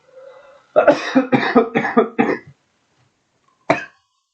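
A quick series of about six harsh coughs in a row, close by, then a pause and one more single cough.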